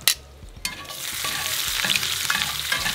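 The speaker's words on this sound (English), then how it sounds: "Notice how I'm pulling this bacon out of the grease and then popping it back in." Bacon frying in hot grease, lifted out and dropped back in: sharp clatters at the start give way to a loud, steady crackling sizzle with small pops, close up and without talk.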